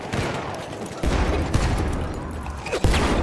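Battlefield 1 combat: loud, dense barrage of rifle fire and explosions, with repeated booming blasts cutting through continuous crackling gunfire and no voices.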